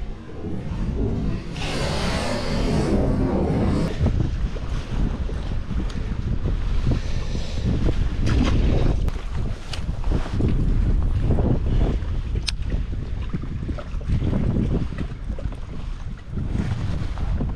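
Strong wind gusting across a swampy cypress lake during kayak bass fishing, a constant loud roar buffeting the microphone with water sloshing beneath, no voices.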